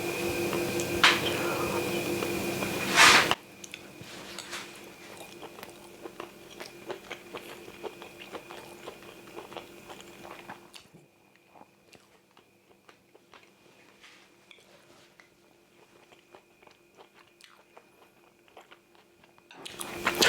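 Close, crisp crunching and chewing repeats irregularly, loud at first and then softer, with faint background noise.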